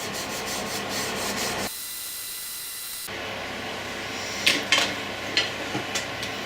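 Steady dry rubbing strokes as a Scotch-Brite abrasive pad denibs a turned wooden wand, an abrasive scrubbing hiss that pauses briefly and resumes, ending with a few light taps and scrapes.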